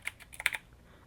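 Several quick keystrokes tap on a computer keyboard during a coding session, close and fairly quiet, arriving in a short irregular burst of about six clicks before trailing into near silence.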